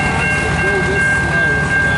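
A CN local train rolls slowly past near Port Huron, a loud steady rumble of railcars with a sustained high tone running throughout.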